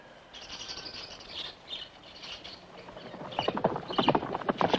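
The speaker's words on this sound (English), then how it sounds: "Father, there are soldiers on horseback." Soldiers' horses approach on foot, their hooves clopping faintly at first and then growing louder and more rapid toward the end, with light birdsong in the background.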